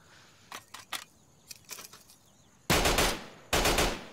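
Automatic machine gun fire in the Insurgency shooter game: scattered short bursts and single shots at first, then two loud sustained sustained bursts close up near the end, with no talking.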